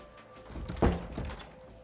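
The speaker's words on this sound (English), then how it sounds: "that's to keep those doors from banging at night" A house door bangs shut at night with one heavy thunk, loud and close against a quiet room, framed by softer knocks of the door moving just before and after.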